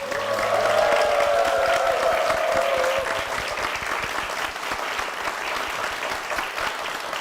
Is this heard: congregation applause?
yes